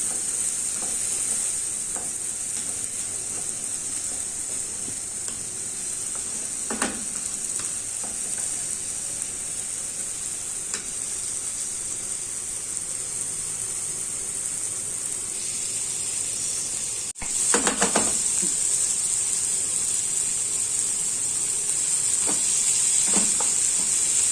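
Tomatoes cook down in a pan with a steady, close hiss of sizzling that runs the whole time, broken now and then by a few soft clinks of a utensil, and grows slightly louder near the end.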